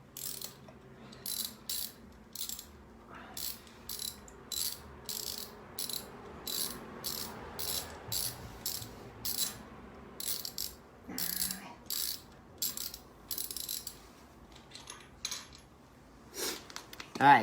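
A socket wrench ratchets while unscrewing a spark plug, giving repeated bursts of sharp, close clicking in a steady back-and-forth rhythm, with brief pauses between strokes and faint background noise.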